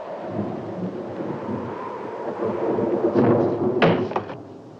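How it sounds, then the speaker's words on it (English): Thunder from an unseasonal lightning storm builds as a low continuous rumble, swelling louder toward the end with a few sharper cracks, heard indoors with no talk. "Isn't it a strange time of the year for us to have a lightning storm like this?"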